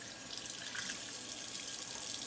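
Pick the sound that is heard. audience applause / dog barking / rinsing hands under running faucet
rinsing hands under running faucet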